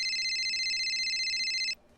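A phone rings with a bright, warbling electronic tone that carries continuously for under two seconds, then cuts off abruptly into quiet room tone.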